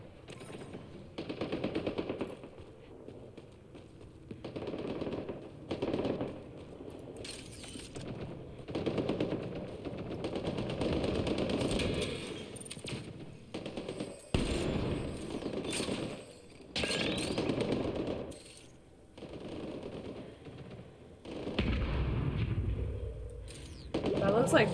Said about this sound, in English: I do be hearing gunfire though.